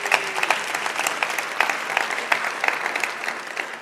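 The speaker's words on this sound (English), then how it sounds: "So give yourself a hand of applause because you made that decision now." A live audience at a Mindvalley event claps steadily throughout, a dense, continuous patter of many hands with no voices over it.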